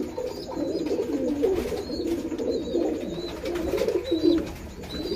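Breeding pigeons in a loft in Bangladesh coo in low, repeated throaty phrases, close and continuous, with a few faint higher chirps above them.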